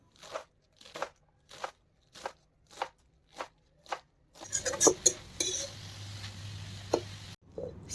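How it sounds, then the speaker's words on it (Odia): Knife chopping washed leafy greens on a board: eight evenly spaced crisp cuts, then a faster flurry of crunchy chops with clinking and a low background hum, close and clear. "ଶାଗକୁ ଏବେ କଟାକଟି କରିଦେଉଛି।"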